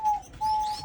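Small pet finches, including a red factor bird, chirp in a bird room: two clear, steady whistled tones, each held for a few tenths of a second and separated by a short gap, over quiet background murmur.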